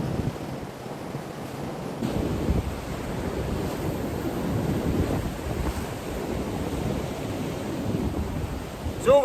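Sea waves roll in as white water on a UK shore at a coastal mackerel fishing spot, a continuous rushing surf with wind noise on the microphone, loud and steady with small surges.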